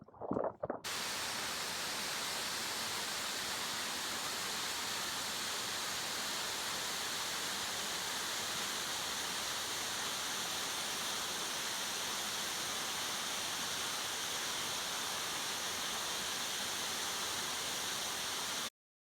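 Zui Falls on Hinchinbrook Island gives a continuous, close waterfall roar of dense rushing water, unbroken and even for the whole stretch, with no voices.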